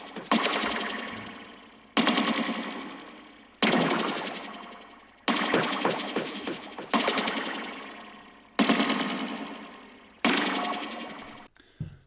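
Heavily processed psychedelic snare built from a rim shot, hitting seven times at roughly regular intervals, each loud crack followed by a long, ringing, metallic decaying tail.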